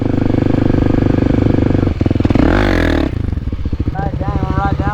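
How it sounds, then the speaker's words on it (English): Kawasaki Z125 Pro motorcycle climbing a mountain road, its small engine revving loud and steady nearby with a rising surge mid-ride and clattering, while people talk over it. "Tyler's got the Z ripping up there."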